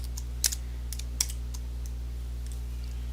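Typing on a computer keyboard while entering a database query, a few quiet, scattered key clicks with a couple of sharper taps over a steady low electrical hum, and no talk.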